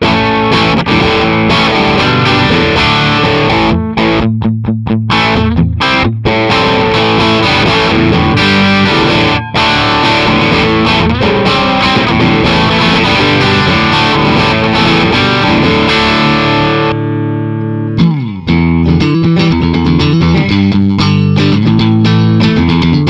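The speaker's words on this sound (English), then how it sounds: "Drive channel of the Dynamis, I have a EL34 power amp simulation on" Distorted electric guitar on the drive channel of an ENGL Dynamis with EL34 power amp simulation, run through an ENGL Cabloader IR pedal, plays loud, dense riffs with brief rhythmic stops and a short break near the end, no talking.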